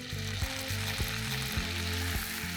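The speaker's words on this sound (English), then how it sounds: "Make sure you shallow fry the chicken nicely for at least 5 to 6 minutes." Chicken shallow frying in a pan for a spicy chicken potato curry: a steady, close sizzle with occasional soft knocks of stirring, no voices.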